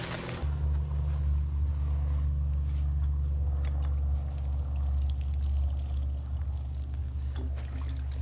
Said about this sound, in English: And then we're going to just carefully water it.